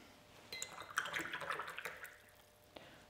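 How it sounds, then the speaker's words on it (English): A watercolour brush dips into water and is worked on the paper, giving soft faint splashing and wet swishing for a couple of seconds, quiet and close, with a small tap near the end. "and just add a bit of water"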